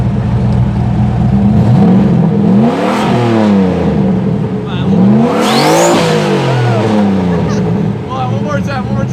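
A 1000-horsepower turbocharged Trans Am WS6 revs hard several times, its engine pitch sweeping up and falling back in loud, close bursts, while people talk over it.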